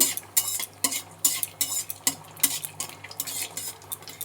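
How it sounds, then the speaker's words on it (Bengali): Whole garam masala and bay leaves are stirred in hot ghee, with a spoon scraping the pan in repeated strokes over a soft sizzle, close and with no talking. "এবার আমি গোটা গরম মশলা আর তেজপাতা দিয়ে দিচ্ছি এর মধ্যে এবার এটাকে একটু নেড়ে নেব"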